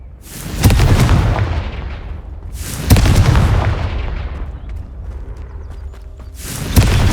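Confringo explosive spell bursts in Hogwarts Legacy smashing vases, heard as three loud booming blasts a few seconds apart, each fading into a long rumbling tail with faint debris clatter, and no talk.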